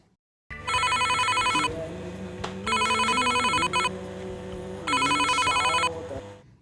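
A telephone rings in three bursts of a bright electronic trill, each lasting about a second, with gaps between them, over a low steady hum and faint background murmur.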